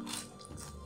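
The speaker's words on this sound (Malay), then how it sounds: "saya nak rasa rangup ke tidak" A close, soft crunch of teeth biting into crispy double-fried french fries, one short crackly bite followed by faint chewing, heard alone.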